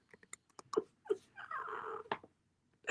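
A cat meows and chirps in several short, close calls, followed by a longer drawn-out meow, quiet overall and heard alone without talk.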